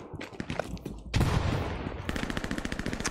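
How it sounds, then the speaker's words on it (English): A grenade going off in a shooter video game: a sudden loud blast bursting in about a third of the way through, followed by rapid rattling gunfire and a rough rumbling tail. "I just killed myself with my own grenade"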